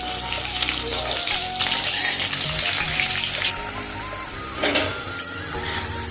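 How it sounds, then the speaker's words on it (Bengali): Potatoes frying in hot oil give a loud, steady sizzle with bursts of crackle, recorded close up without any talk. "আমি আলুটা একটু ভেজে তুলে নেব।"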